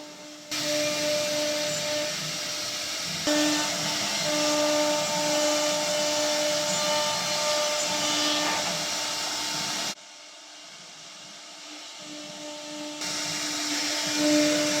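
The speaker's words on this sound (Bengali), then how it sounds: "আপনারা দেখতেছেন অলরেডি আমার একটা মেশিন চলতেছে। এটা হচ্ছে সিএনসি মেশিন" A CNC wood-cutting machine runs in a small wood workshop with a steady, loud whine and hum. It pauses briefly around the middle of the stretch, comes back quieter, then rises again near the end, with no talk over it.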